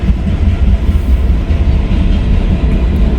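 A train rumbles past close by in the snow, a loud, continuous low roar with faint rhythmic clatter from the wheels, steady throughout with no voices.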